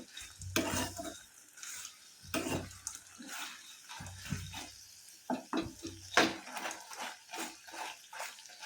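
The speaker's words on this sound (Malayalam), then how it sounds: "ഇതും ഒന്ന് ചോക്ക വറുത്ത് കഴിഞ്ഞാൽ ഞാൻ വറുത്ത് കോരി എടുക്കും" Dried shrimp frying in hot oil in a pan for a pickle, a steady sizzle broken by repeated stirring scrapes and clatters, close and fairly loud, with no talk.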